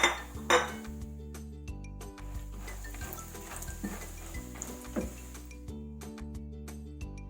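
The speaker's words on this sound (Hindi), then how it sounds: "अब ये हैं 1 कप फूल मखाने, इन्हें भी घी में रोस्ट कर लेते हैं।" Fox nuts (makhana) roast in ghee in a pan, giving light clinks and scrapes as they are stirred, faint and intermittent over a low steady hum, with no talk.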